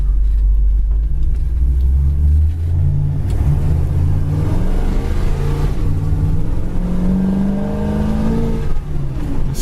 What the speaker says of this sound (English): This car really sounds good when you open it up. That 454 really has a lot of snort to it.